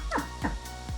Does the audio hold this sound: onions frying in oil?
no